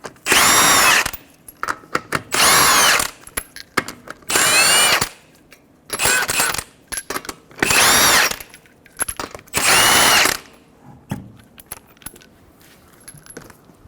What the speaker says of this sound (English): Remove your 5 21mm lug nuts.